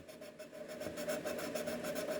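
Hand sanding a surface with sandpaper to remove sanding marks, a faint, rhythmic back-and-forth rasp repeating in quick even strokes.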